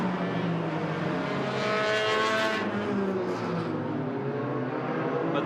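Hornet race cars roar around the Agassiz Speedway roval in British Columbia during an enduro race, engines droning and shifting pitch as cars pass close by in a dense, continuous pack.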